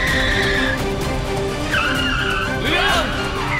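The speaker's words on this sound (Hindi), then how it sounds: "रोक दे गाड़ी।" Car tires screeching and skidding as the car is brought to a stop in a dramatic scene, with loud, repeated squeals wavering in pitch over engine noise and background music.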